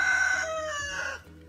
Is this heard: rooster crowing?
yes